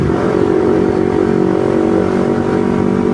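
A carbureted Kawasaki Ninja 250 motorcycle rides on the road, its engine droning loud and steady close to the rider, with a constant buzzing hum and wind noise.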